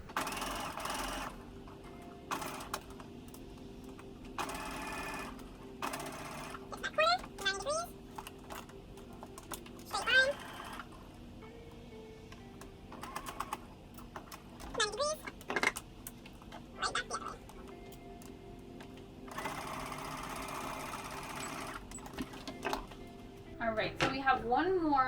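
A sewing machine stitches fabric for a plush toy in several short bursts of whirring, with pauses and small clicks of handling between them and a voice talking now and then.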